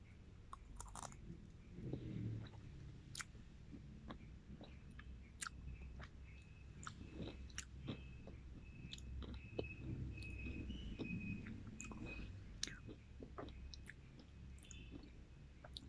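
Crunchy Dubai-style pistachio chocolate being chewed close up, with repeated wet crunching bites and soft mouth sounds throughout, no talking.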